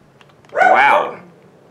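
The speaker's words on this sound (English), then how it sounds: "my dog." A pet dog gives a single loud, drawn-out bark or whine lasting under a second, close by, against a quiet indoor background with no talking.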